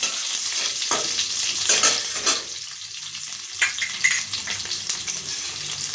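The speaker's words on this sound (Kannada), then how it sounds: "ಇವಾಗ ಸಾಸಿವೆ ಎಲ್ಲ ಚಿಟ್ಕೊಡ್ತಾ ಇದೆ." Mustard seeds splutter and crackle in hot oil in a pan while cooking onion palya, a loud close sizzle with sharp popping bursts throughout.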